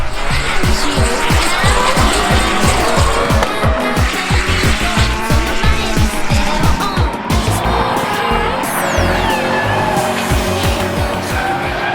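A drift car's engine roars and revs hard while tires squeal loudly and continuously, close and intense throughout, at the JapFest 2017 motorsport event.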